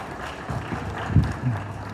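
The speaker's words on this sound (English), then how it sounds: "round of applause." Conference audience giving a round of applause to a speaker, a soft, diffuse patter of clapping from a crowd in a hall, with a few louder thumps and low murmurs mixed in.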